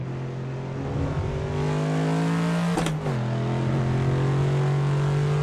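Ford Mustang GT V8 engine driven in Assetto Corsa on the Nordschleife, a loud steady in-car drone holding a high rev pitch, dipping briefly around a gear change before pulling again.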